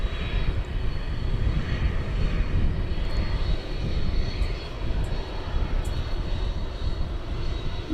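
An MD-11 airliner's jet engines roar steadily at DFW Airport at night, a continuous loud rumble with no talk over it.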